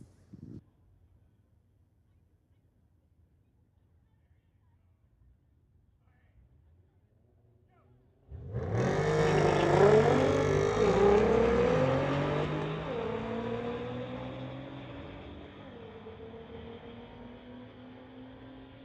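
Sport compact street cars launching side by side down a drag strip at Mission Raceway; after quiet crowd murmur, a loud, sudden roar of engines revving hard and fading slowly as they run away.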